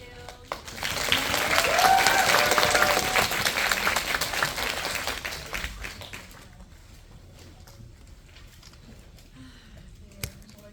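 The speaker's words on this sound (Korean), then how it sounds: "여러분 다시 한번 두 분 인사 나누실 때 큰 박수 부탁드릴게요." An audience applauds at an anniversary celebration event, clapping swelling loudly in the first seconds, then thinning and fading out, with a few scattered claps lingering near the end.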